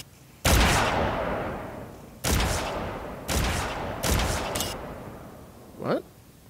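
Heavy gunshots in the video game Project Contingency, four loud booming blasts with long decaying tails at uneven intervals, followed by a brief rising whoosh near the end.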